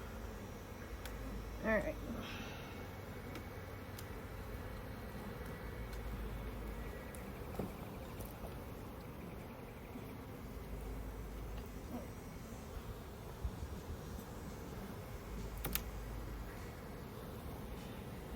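Honey bees hum steadily around a backyard hive in North Port after a robbing frenzy, with hive beetles present; a continuous near buzz fills the air while a voice speaks briefly.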